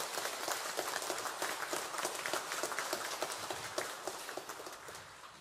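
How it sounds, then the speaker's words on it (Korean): A church congregation at a Sunday worship service claps rhythmically in unison, a steady run of sharp, fairly faint claps lasting the whole stretch. "우리 주님께 영광의 박수."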